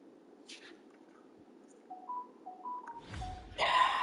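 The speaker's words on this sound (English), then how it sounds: "I got a notification on my phone." A phone notification in the video game UFC 2 plays as a short run of soft electronic tones, followed by a louder burst of sound at the end.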